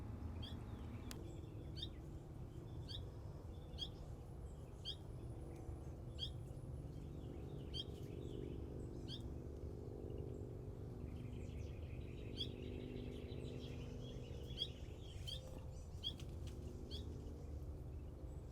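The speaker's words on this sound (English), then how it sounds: "Baby bird." Baby bird in a butterfly garden gives a run of faint, high, evenly repeated chirps, each note short and sharp, over soft outdoor background hum, with a buzzy trill partway through.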